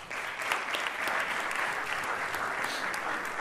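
A crowd applauds at an Argentine gathering, a dense, even wash of clapping that holds steady throughout, heard from a moderate distance without any talk.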